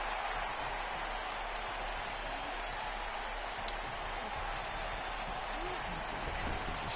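Wrestling crowd at a tag team title match applauding in a steady, dense wash of clapping that holds evenly throughout, with no voices standing out.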